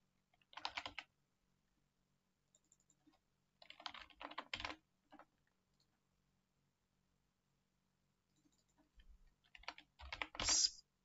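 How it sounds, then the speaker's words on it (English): Typing on a computer keyboard in short bursts of clicking keystrokes, close and fairly quiet, separated by silent pauses in an otherwise still room. "Just double click to highlight all the text and type in the word."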